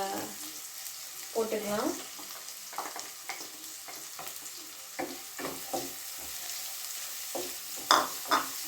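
Oil sizzles steadily as food deep-fries for street-style fried rice, with scraping stirs and short bursts of clatter; a voice talks intermittently over the frying.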